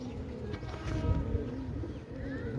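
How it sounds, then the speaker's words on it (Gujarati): Pigeon cooing near a rooftop, a few soft low throaty coos over quiet background hum and faint rustling, with no speech. "જો કોકનું મસ્તીનું કબૂતર આવ્યું."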